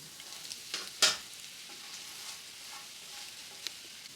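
Ingredients for coriander fried rice stir-fry in a pan with a quiet, steady sizzle, punctuated by a few sharp scraping clinks of the spatula near the start and a soft tap later.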